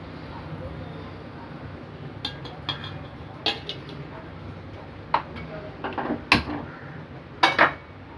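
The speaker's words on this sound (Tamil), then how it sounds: "அதுக்கு தேவையான வெல்லம் கரைச்சி வடிகட்டி ஊற்றிடுறேன்." Utensils clink and tap against a pot while dissolved, filtered jaggery is poured into moong dal payasam, with scattered sharp metallic knocks over a low steady kitchen background.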